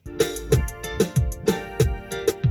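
Short reggae bass guitar line plays in a steady repeating pattern, plucked notes evenly spaced, close and clear with nothing else over it.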